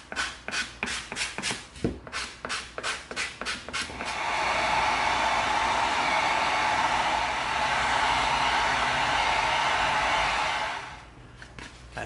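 Hand sanding EVA foam with 80 grit sandpaper: a series of short rhythmic scraping strokes, then a long steady loud rasp of continuous rubbing lasting several seconds before stopping.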